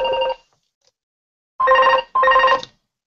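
A mobile phone rings loudly and close by, with a short burst, a pause, then two quick bursts of a bright electronic ringtone.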